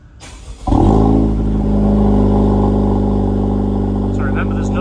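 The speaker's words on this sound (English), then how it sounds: "Let's get a cold start of the AWE exhaust." A Honda Civic Type R with an AWE exhaust and no valve fires from a cold start: a short starter whir, then a loud catch and a steady, droning high idle that holds close and unbroken.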